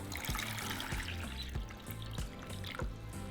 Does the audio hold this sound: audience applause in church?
no